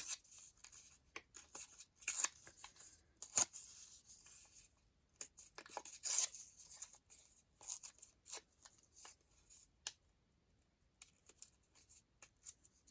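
Scissors snip through fabric pieces for patchwork, a scattered series of short, close, crisp cuts and rustles with quiet pauses between them.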